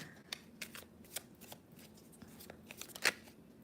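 Tarot cards being shuffled by hand, quiet and close: a series of soft riffling flicks and sharp card snaps at irregular intervals, with one louder crisp snap near the end.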